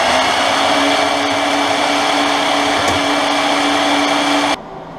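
A power tool cuts a metal gusset bracket for a custom hydraulic handbrake in one steady, loud, unbroken whine that runs for several seconds and then stops abruptly.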